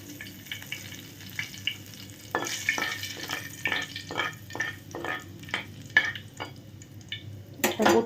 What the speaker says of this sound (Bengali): আমি কড়াইতে অলরেডি হোয়াইট অয়েল দিয়ে খুব ভালো করে গরম করে নিয়েছি